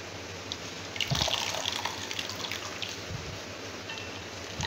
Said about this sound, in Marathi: आणि परत हे सोयाबीन एका पाण्यात धुवून घेऊ.